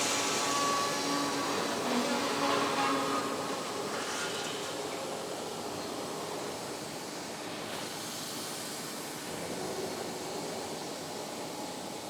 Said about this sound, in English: And here is the welding forming step.